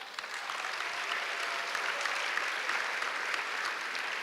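Steady, dense applause from a school New Year concert audience fills the hall, a continuous wash of many hands clapping at even loudness with no talk over it.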